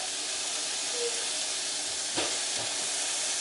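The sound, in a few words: ground beef browning in a pan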